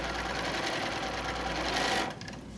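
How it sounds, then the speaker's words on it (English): A sewing machine runs steadily through a quarter-inch quilt seam, a close, even mechanical hum and rapid stitching that stops abruptly near the end. "you're going to sew, and remember, you're back to your quote-unquote normal 1/4 inch seam"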